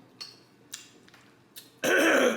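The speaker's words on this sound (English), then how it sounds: "I know, that's why I was coughing." A few short, faint throat-clearing coughs spaced apart, followed by a louder, harsher cough burst at the end.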